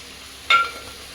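Korameenu fish curry in a pot, Andhra style, given a single gentle stir, a brief soft scrape with a light simmering hiss underneath, close by and alone.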